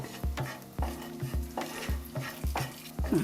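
Cashews and raisins fry lightly in a pan for Tamil Nadu-style sweet pongal, with a soft sizzle under a spoon scraping and stirring in a regular rhythm, about twice a second, close up.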